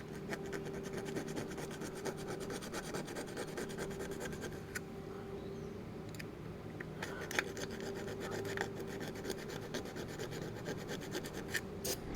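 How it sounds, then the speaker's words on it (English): A hand file rasps steadily through a stuck bolt on a Big Cam Cummins engine, with quick, repeated strokes that are close and fairly quiet, pausing briefly before resuming. "And right now I'm just filing through it."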